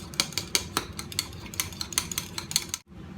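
A utensil whisks balsamic dressing with black pepper in a bowl, giving quick, rhythmic metallic clinks and scrapes that repeat steadily at close range before stopping abruptly.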